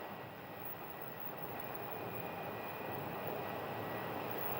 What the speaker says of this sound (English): It's flight 3234. It is a CRJ 900.